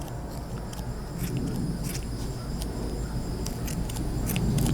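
Scissors snipping at a horse's ear hair in a quiet barn, a run of short, faint metallic clicks and cuts spaced irregularly over a low steady background rumble.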